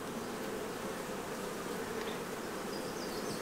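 A dense swarm of honey bees buzzing around a beekeeper at the hive, a steady, close droning hum with no pauses and no talk.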